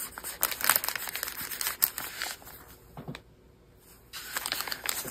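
Tracing paper, doubled up, crinkles and rustles as it is handled and cut into a pocket shape, close and busy with a brief quiet pause.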